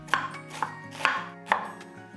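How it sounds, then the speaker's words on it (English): Knife slicing through an onion on a board for chili con carne, four crisp evenly spaced cuts close up, with quiet room tone between them and no talking. "We slice an onion."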